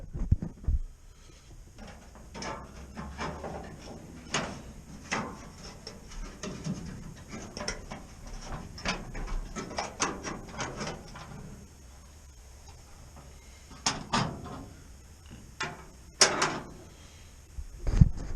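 The bonnet of a 1982 Classic Mini is worked open with a series of sharp metallic clunks, creaks and rattles of hinges and panel, irregular and close by in a quiet workshop.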